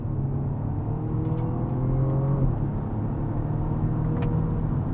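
A BMW M235i xDrive in sport gearbox mode accelerates hard, its engine note climbing steadily and then dropping sharply at a gearshift before pulling again, loud and close from inside the car.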